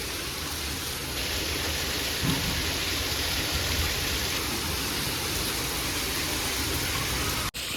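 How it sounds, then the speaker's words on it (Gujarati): Heavy first-of-season rain pours down in a steady, dense roar, loud and continuous throughout, with a brief dip near the end. "કેટલો બધો વરસાદ આવે છે"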